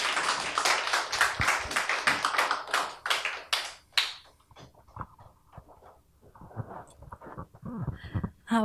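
Audience in a Korean event hall claps at a welcome cue, a burst of individual handclaps for about four seconds that thins into scattered taps and faint murmur.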